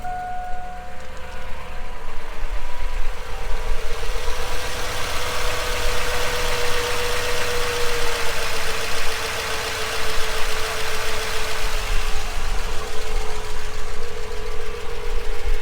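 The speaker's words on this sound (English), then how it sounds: "You can't even tell it has a cam, but you can hear valve train noise" A cammed 8.1 big block Chevy V8 with roller rockers idles steadily and loudly up close, with a continuous valvetrain clatter and ticking running under the low rumble.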